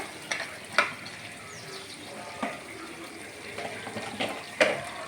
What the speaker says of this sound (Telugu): ఇప్పుడు వేగింది మటన్ అంతా ఇదిగోండి ఆయిల్ కూడా వదిలింది కదా